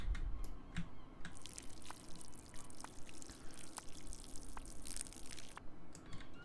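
Water trickling and dripping onto a potted plant from a watering can in the video game Schedule 1, a soft, steady splashy pour with faint drips, fairly quiet throughout.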